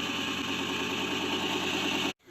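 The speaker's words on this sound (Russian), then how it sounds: "Так что, друзья, вот такая вот циркулярка." Homemade circular saw powered by a refrigeration compressor motor, running with a steady loud hum and whine close by before cutting off abruptly near the end.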